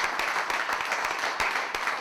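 Studio audience at a comedy show applauds comedians Matt and Tom, a dense steady wash of clapping with scattered sharper claps, sustained and fairly loud throughout.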